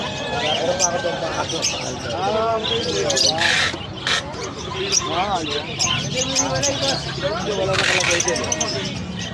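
Birds squawk and chirp repeatedly at a busy pet market, their calls overlapping with nearby people chatting and general crowd noise.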